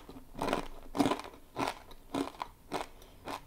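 Dry, uncooked ramen noodle blocks crunched between the teeth, about six loud close-up crunching bites in a steady rhythm with brief pauses of chewing between them, no talking.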